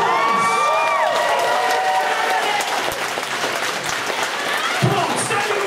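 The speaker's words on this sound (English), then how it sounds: "I think you should all give him an amazing round of applause." A convention crowd at a charity auction erupts in loud applause and cheering, with whoops and shouts over dense clapping and voices calling out, sustained throughout.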